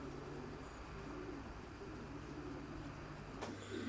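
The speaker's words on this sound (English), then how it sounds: "The pigeons trap through the open doors and then go through bob traps into the nest box compartment." Racing pigeons coo softly inside a loft with nest box compartments and bob traps, a steady low murmur of calls over constant background hum, with a brief sharp click near the end.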